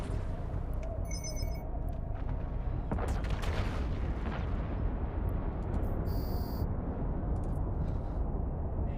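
Rapid light missile launchers fire auto-targeting light missiles at NPC ships in EVE Online, giving a continuous rumbling barrage with a few sharp bursts and electronic beeps on top, loud and dense throughout, with no talk.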